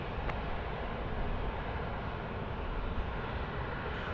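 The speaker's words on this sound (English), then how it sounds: "Air Canada 3-4, runway 16 right, cleared for takeoff" An Air Canada airliner takes off from runway 16 right at Sydney Airport, a steady, broad jet roar heard from a distance that stays at an even level throughout.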